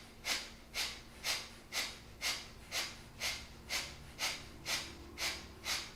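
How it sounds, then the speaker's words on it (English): Kapalabhati yoga breathing: twelve sharp, forceful nasal exhales in a steady rhythm of about two per second, close and clear against a quiet background. "Kapalabhati, forceful exhales."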